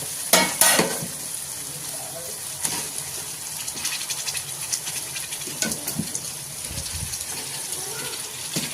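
Country chicken dropped into a pan of tomato masala and frying: a couple of loud clattering hits at the start, then a steady sizzle with stirring scrapes and occasional bumps, moderately close, without talk.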